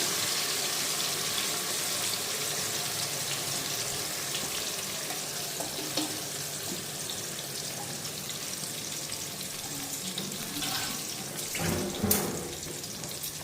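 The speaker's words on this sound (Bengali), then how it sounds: "এখানে একটু মশলা ধোয়ার জলটাও দিয়ে দিলাম" Spice-washing water is poured into a simmering fish curry in a kadai, a steady hiss of sizzling and bubbling with faint clinks and a brief splash near the end.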